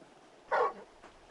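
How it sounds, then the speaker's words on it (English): A big dog in a PS5 video game lets out a single short whimpering yelp, close and clear over a quiet background. "You're just a big puppy, aren't you? A very big puppy."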